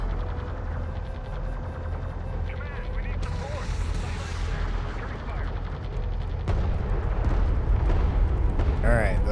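Gunfire hitting salvager vehicles during a base assault in the Homeworld: Deserts of Kharak game: a loud, continuous roar of cannon and gun bursts with heavy rumbling explosions and mechanical battle noise that swells toward the end.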